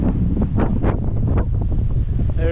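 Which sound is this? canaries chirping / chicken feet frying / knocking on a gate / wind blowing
wind blowing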